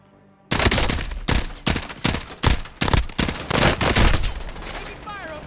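Video game gunfire in a squad-based shooter, a series of about ten loud, sharp bursts in an irregular rhythm, close and dominant, with a faint voice at the end.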